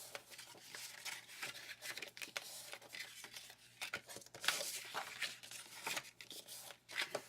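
Scored paper being folded by hand for a folio, a series of soft, close crinkles, creases and rustles in an irregular rhythm.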